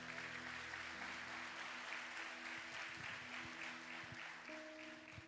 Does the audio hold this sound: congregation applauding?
yes